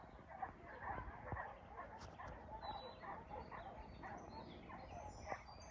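Faint, distant dog barks and yips come in short scattered bursts over quiet outdoor background noise.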